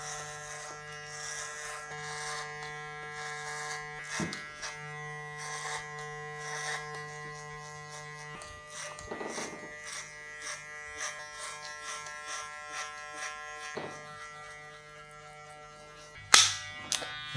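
Electric hair clippers buzz close up while cutting a taper, a steady whine with brief pauses and shifts in tone as the blade passes through the hair, then a sharp clack near the end.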